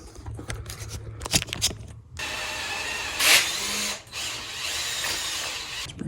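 A power tool cuts slowly through a thick, hard steel tie rod center link on a car, first as rapid chattering bursts, then as a steady loud grinding whine, close up, with no voices.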